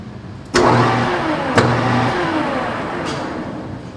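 A machine tool cuts a Sako rifle extractor ring: a sudden start of steady mechanical whir with a humming drone, punctuated by a second sharp onset and a faint click later, close and continuous without talk.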